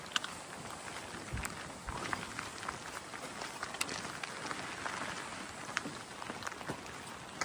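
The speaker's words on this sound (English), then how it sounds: "Look at the hail." Hail pelts the ground and gear at an outdoor wild camp on the fells, a faint dense patter of small hard ticks and scattered sharper clicks throughout, with no talk over it.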